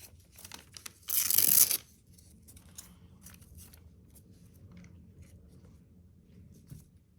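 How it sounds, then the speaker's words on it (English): A sheet of paper is torn in half in one loud, rasping rip lasting under a second, followed by quiet rustling and handling of the pieces. "I'm going to tear this in half so it will fit in that space"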